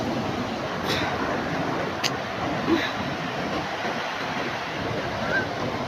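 Ocean waves surge toward the shore at Victorias beach in a constant rushing wash, with wind buffeting the microphone and a few louder swells rising from the roar.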